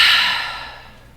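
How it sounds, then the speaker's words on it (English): A deep, breathy exhale released during a guided breathing exercise, loud at the start and fading steadily over about a second, alone with no talk. "Then big exhale, let it go."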